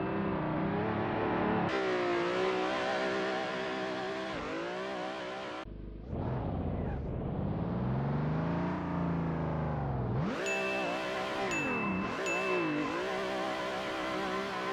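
Car engine in the racing game Assetto Corsa revving hard and fluctuating while drifting, loud and continuous with rising and falling pitch, sharp throttle changes and brief drops, no talking.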